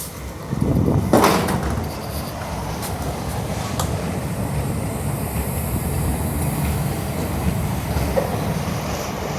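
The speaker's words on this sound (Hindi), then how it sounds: "तो यहाँ पे रायचूर परभनी एक्सप्रेस डिपार्ट कर रही है।" Inside an old coach with wooden upper seating, the Raichur Parbhani Express departs with a steady rumble and rattle of the carriage, a few sharp clanks and knocks early on, then continuous rolling noise.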